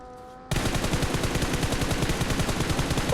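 Sustained rapid automatic gunfire in the mobile battle royale game PUBG Mobile, a dense rhythmic burst of shots starting abruptly after a brief quiet moment and continuing loudly to the end.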